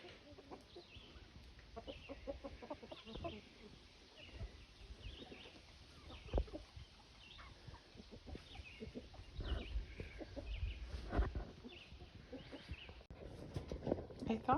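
A young hen on a homestead clucks repeatedly at close range amid a busy flock of chickens, with other fowl calls and low background rustle running throughout.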